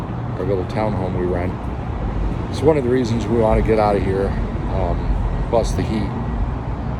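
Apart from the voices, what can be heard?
road traffic noise in Phoenix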